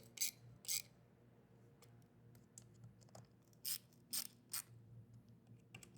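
A screwdriver snugs down two screws on a Lowrance Ghost X indicator GPS board for a Ghost trolling motor, giving quiet, near ratcheting clicks in short irregular bursts against a low background, with no speech.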